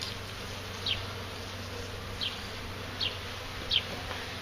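Honey bees hum in a constant, moderate buzz while being installed into a hive, with four short high chirps popping out at intervals over the drone.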